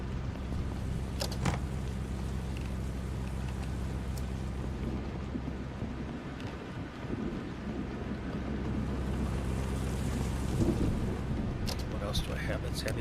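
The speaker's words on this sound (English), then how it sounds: "Hopefully I'll wake up and the storm will be over." A steady thunderstorm in the game Vein: constant rain hiss with low rumbling thunder rolling underneath, a continuous bed of weather sound running throughout without pause.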